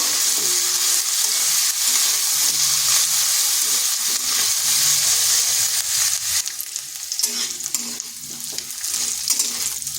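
Cauliflower pieces fry in hot oil in a kadai, a continuous bright sizzle broken by stirring scrapes and clinks, easing slightly toward the end.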